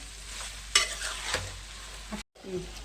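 A ladle stirs frying potatoes in a pan, giving soft scraping strokes with a sharp clack near the start over a steady low sizzle.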